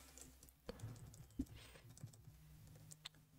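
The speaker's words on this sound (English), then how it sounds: "I'm going to type in rate box." Soft keystrokes tap on a computer keyboard in a few scattered, irregular clicks, quiet and close, with no talking.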